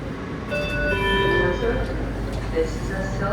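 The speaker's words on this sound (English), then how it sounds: "This is a Silver Line train to Ashburn" Washington Metro Silver Line train heard from inside, a steady rumbling roll with a bright high whine and a few tonal squeals, people talking over the noise.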